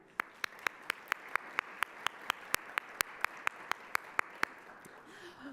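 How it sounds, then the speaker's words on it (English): Faint clapping at a Columbus Metropolitan Club public forum: about twenty sharp, evenly spaced claps in a steady rhythm against a quiet room hush, tapering off at the end. "let's give them a round of applause"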